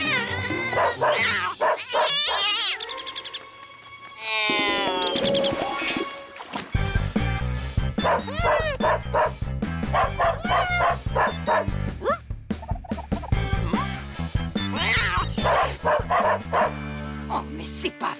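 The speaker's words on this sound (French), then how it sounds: "J'en ai plus qu'assez de votre chien qui n'arrête pas d'aboyer!" A cartoon dog barks and yips over and over without stopping, bursts of varied yelps and whimpers mixed with music and sound effects, loud and close throughout.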